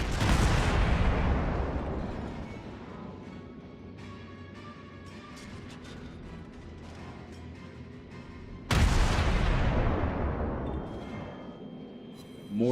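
Heavy naval gunfire from the Soviet cruiser Murmansk in World of Warships: two loud booming salvos, each rolling off into a long decaying rumble, the second arriving about nine seconds after the first.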